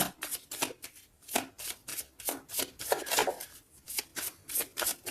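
Tarot cards being shuffled and drawn, a steady series of crisp riffling bursts repeating at an even rhythm, close and moderately loud, with no talking.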